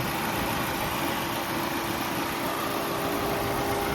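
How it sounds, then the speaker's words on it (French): A Subaru Forester's engine, rated at 240 horsepower, idles with a steady, even hum and a faint vibration, heard close and alone with no talking. "Au niveau du moteur, je vous laisse écouter."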